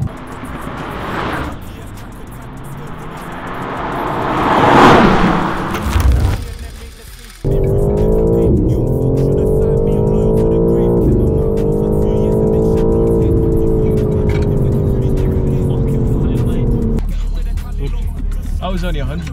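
A BMW G82 M4 Competition revs hard under acceleration, its rising engine note loud and close, then cuts off abruptly as it brakes, followed by a steady drone with people talking over it.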